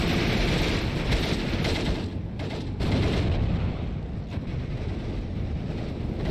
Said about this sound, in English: They gun down Gavardi